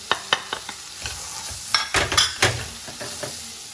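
Spices for pav bhaji frying in a pan, with turmeric and curry powder being stirred: a low sizzle under a series of irregular scraping and tapping strokes, louder and busier toward the middle.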